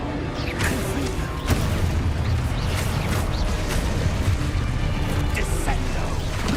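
The Confringo blasting spell exploding in the video game Hogwarts Legacy, a loud dense booming blast with crackling debris and rumbling that carries on throughout.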